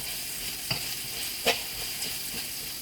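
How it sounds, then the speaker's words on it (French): Aubergine and onion mixture cooking in a pan, a gentle, even sizzle with a few soft clicks and scrapes, close and fairly quiet. "je vais mettre le couvercle et je vais laisser mijoter tranquillement"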